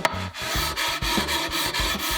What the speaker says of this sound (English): And now I'll just sand them so they will disappear